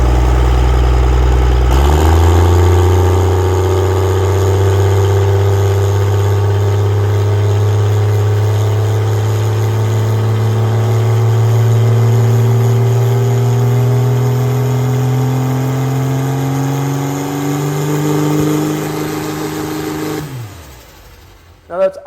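A heavy truck engine during a torque converter spool-up test, revving up after a short start and holding a loud, steady, droning roar for most of the run before cutting off abruptly near the end.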